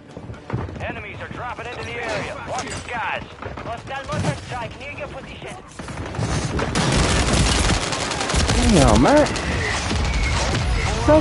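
Video game gunfire striking the player during a boss fight, dense bursts of shots rattling under excited talking and game noise, growing louder and busier in the second half.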